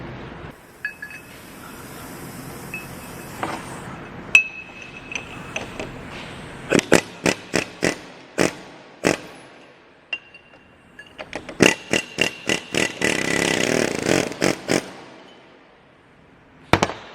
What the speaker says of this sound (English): So I'm gonna knock these out with the air hammer now